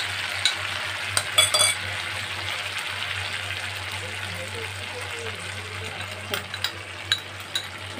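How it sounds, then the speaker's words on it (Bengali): Potatoes and ginger frying in a pan as spice paste is added, giving a steady close sizzle with occasional stirring scrapes and clinks, and a low hum underneath. "এবারে আমি দিয়ে দেবো তৈরি করে রাখা এই পেস্ট।"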